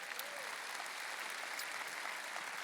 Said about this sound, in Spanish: ¿Alguien puede darle un aplauso al Señor?